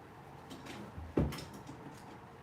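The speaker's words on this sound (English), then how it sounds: "Let me just close the door real quick." An indoor door is shut with a single soft thud near the middle, a short low knock close by against a quiet room background.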